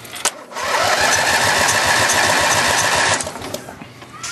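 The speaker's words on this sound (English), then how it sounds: "So let's try to see if we'll start up." A Roper small gasoline engine, running without throttle control and with a carburetor problem, cranks, catches and runs loudly with a steady rattling chug for about three seconds, then dies away.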